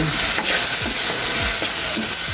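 Bagoong shrimp paste sautéing with vegetables in a hot pan, a steady bright sizzle with a spatula scraping and stirring at a slow, repeated rhythm, close and fairly loud throughout.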